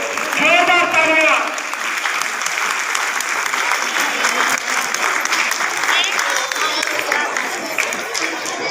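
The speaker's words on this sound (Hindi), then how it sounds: "जोरदार तालियां" At a welcome ceremony for a minister in Khurai, a crowd claps loudly and steadily, with sustained applause filling the whole stretch at near-constant volume.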